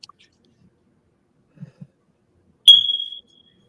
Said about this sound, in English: am I hearing like a fire alarm or something?